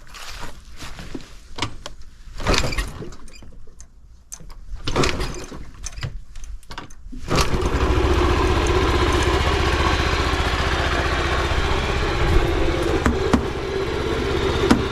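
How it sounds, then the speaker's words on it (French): Peugeot scooter, about eighteen years old and low mileage, first clatters with several knocks and cranking noises, then catches and settles into a steady, close, loud engine idle for the rest of the clip. "un scooter Peugeot"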